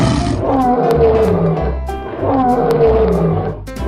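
Lion roaring, two deep rhythmic roars in close succession, loud and near, each with rumbling grunting pulses.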